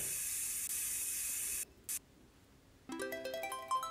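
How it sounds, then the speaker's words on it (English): A steady hiss of spray paint in a video game runs for over a second, stops, gives one short burst, then gives way to bright chiming game tones. "Okay, let's spray it."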